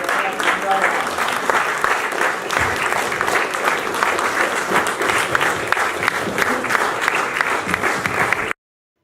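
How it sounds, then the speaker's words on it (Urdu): Standing ovation for Dr. Noor Amrohvi at a London gathering: dense, sustained applause from a large crowd, steady and loud throughout before cutting off abruptly. "ہم کھڑے ہو کے اس کے لیے تالیاں بجائیں ڈاکٹر نور امروہی صاحب کے."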